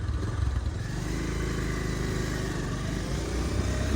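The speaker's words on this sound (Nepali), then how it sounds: "अहिले 2 मा छ मेरो बाइक। 2 मा म बिस्तारै गइरहेको छु।" A motorcycle climbs an uphill bend in second gear, its engine droning loud and close with a steady, slightly uneven rumble throughout.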